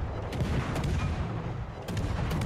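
World of Warships Legends naval battle with the battleship New Jersey firing high-explosive shells: dense, continuous heavy gunfire and booming salvos fill the soundscape, loud and rumbling, without speech.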